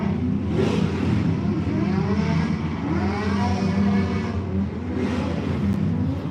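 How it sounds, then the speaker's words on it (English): Formula Drift pro car at a New Jersey warmup, engine revving and whining in repeated surging passes over a constant loud roar of track and crowd noise, heard from a distance. "I think Formula Mirror sound, the engines sound amazing"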